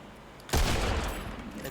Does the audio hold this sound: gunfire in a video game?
yes